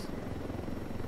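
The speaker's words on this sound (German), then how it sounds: "Oh, vielleicht der Heli rechts" Steady, continuous rotor drone of a helicopter in the video game Ghost Recon Wildlands, a low churning rumble held at even loudness throughout with no talk over it.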